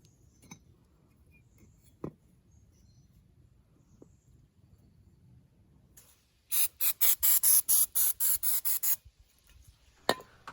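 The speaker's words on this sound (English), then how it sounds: "it's important to clean that off with some brake clean before you install it on your car" Brake cleaner sprayed from an aerosol can onto new brake rotors for an Acura TSX, heard as a burst of about ten sharp, loud hissing pulses in quick succession after a quiet stretch with a few faint knocks.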